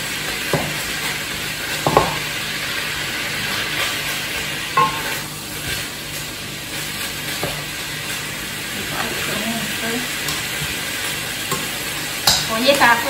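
Cantonese fried rice is stir-fried in a wok, giving a loud continuous sizzle and hiss with intermittent scraping and clanking of a spatula against the metal, close up throughout.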